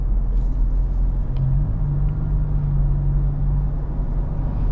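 Low, steady engine and road rumble inside a Roush Ford Ranger pickup truck driving a bumpy back road, a continuous droning hum with a faint tonal whine rising briefly midway, no talking.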